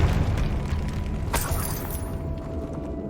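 A Confringo fire spell bursting in Hogwarts Legacy: one sharp, bright crack over a dense rumbling game backdrop, then a fading crackle as the low ambience carries on.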